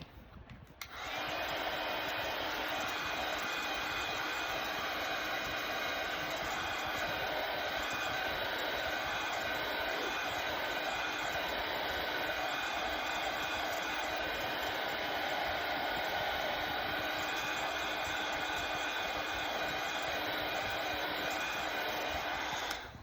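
A loud, steady hair dryer roars close for over twenty seconds without a break while drying paint on a round dog paw welcome sign, with no one talking.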